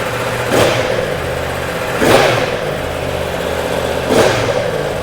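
A Yamaha R1M motorcycle engine running loud and close, rising in three evenly spaced sharp revs toward the limiter over a steady engine drone.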